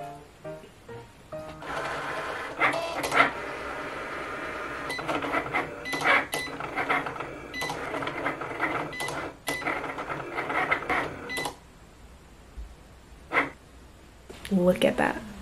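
A Cricut cutting machine working through small cardstock on its mat, whirring and clicking in irregular bursts with a few sharper knocks, close by, while someone talks intermittently over it.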